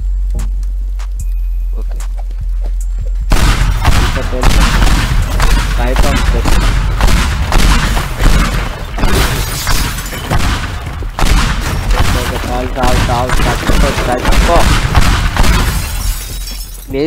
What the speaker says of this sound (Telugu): బాంబ్.